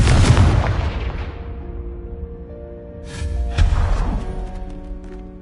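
Confringo fire spell in Hogwarts Legacy bursting twice, a loud booming blast with a long rumbling decay, then a second explosion a few seconds later that also rolls away, with no voices.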